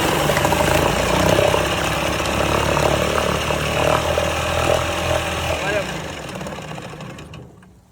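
A 1969 Johnson Sea Horse outboard motor runs rough and uneven as it struggles to idle, a steady close buzzing drone that sags and fades toward the end.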